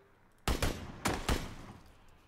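PUBG battle-royale gunfire: two pairs of sharp, loud shots ring out about half a second apart, each followed by a short fading echo over a quiet background.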